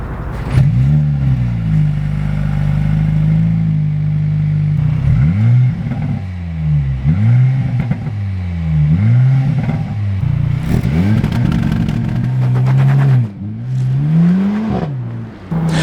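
A Mercedes-AMG SL43 engine revs repeatedly, its pitch rising and falling in strong swells, loud and close, with a mechanical clatter near the end.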